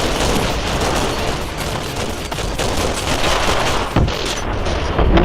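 Gunfire in the video game Matrix Path of Neo, a dense, loud, continuous barrage of shots with occasional heavier bursts, filling the whole stretch without any talk.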